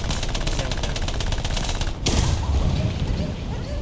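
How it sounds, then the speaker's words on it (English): Rapid machine gun bursts in War Thunder tank combat, a steady rattling stream of shots for the first two seconds, then a heavier boom-like burst and rumbling continued fire, loud and close. "And machine gun. Try to scare him off."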